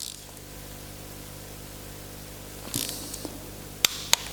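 Ratchet and torque wrench tightening a bolt to 10 Nm on a BMW X1 timing chain, a quiet workshop hum followed by a brief burst of clicks and two sharp metallic snaps near the end.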